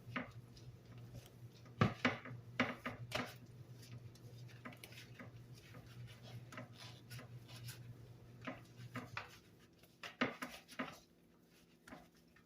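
Hot spinach dip stirred by hand in a bowl, giving close, irregular scrapes and light clinks of a utensil against the dish with brief pauses between strokes, no voices.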